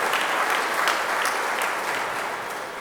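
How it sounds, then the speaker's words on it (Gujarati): A crowd at a Gujarati speech event breaks into loud, sustained applause, dense clapping that carries evenly for about three seconds and eases slightly at the end. "આ પાંચેય ભાગીદારોને જોરદાર તાળીથી વધાવો"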